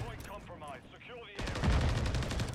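Rapid automatic gunfire in a competitive shooter video game match, a dense burst of evenly spaced shots that starts abruptly halfway through and stays loud to the end, following a stretch of voices talking.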